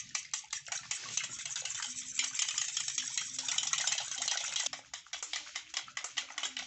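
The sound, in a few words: stirring egg into cake batter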